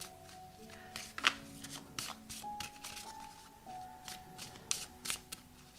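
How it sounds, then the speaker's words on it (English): Oracle cards are shuffled by hand in repeated riffling bursts, close and fairly quiet, with soft card slaps between them and no talking. "Let's pull an oracle card."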